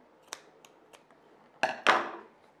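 Scissors snip through crochet ribbon yarn: a few light, separate clicks, then two louder, crisper cuts close together near the end, close by and quiet, with no talking.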